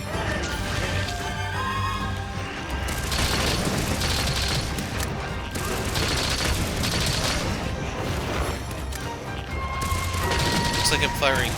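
Weapon fire in the video game Monster Hunter Rise, with repeated bursts of booming shots and impacts mixed into dense game music and effects, heard loud throughout.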